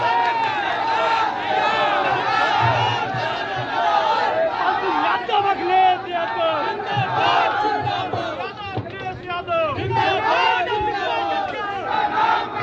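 A political rally crowd in Rainagar cheers and shouts loudly to welcome Akhilesh Yadav, a dense, continuous mass of voices close by, swelling and dipping throughout.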